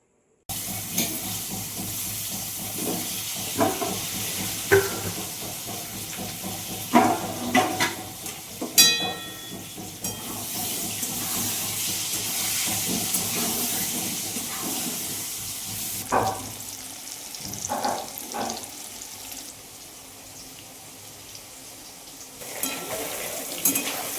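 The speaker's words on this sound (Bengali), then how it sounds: "কড়াইয়ে তেল গরম বসিয়ে দিয়েছি এখানে ভেজে নিচ্ছি হচ্ছে আলুগুলো" Steady frying sizzle of potatoes in hot oil in a kadai, with scattered clinks and scrapes of stirring, close by, no talking.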